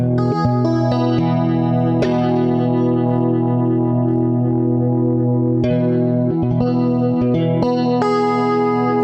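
Stratocaster electric guitar played through effects pedals, a distorted, chorused tone with echo and reverb, sustained chords ringing loud and continuous with fresh strums near 2, 6 and 8 seconds.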